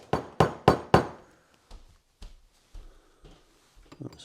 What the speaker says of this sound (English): let's just get a socket and tap that into place